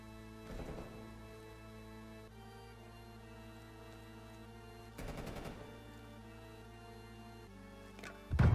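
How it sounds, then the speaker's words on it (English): A few pistol shots in Far Cry 2, a short cluster near the start and another burst around the middle, sharp and fairly loud over steady game music, with a louder hit at the very end. "trying to use the pistol here."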